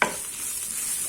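Hot oil sizzling steadily as asafoetida and onion are tempered for a South Indian hotel-style tiffin sambar, a close, continuous frying hiss with no pauses.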